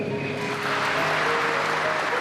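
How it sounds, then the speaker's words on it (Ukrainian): An audience applauding, a broad sustained patter of clapping that fills the space evenly, with faint tonal background underneath and no clear voice on top. "Присутні радісно плескають у долоні."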